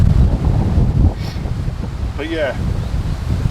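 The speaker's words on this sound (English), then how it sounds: "I think this vlog is just going to be a windy, noisy vlog as I can't get around it" Strong wind buffets the microphone at a lakeside carp fishery, a constant low roar and rumble running the whole time beneath a man's brief speech.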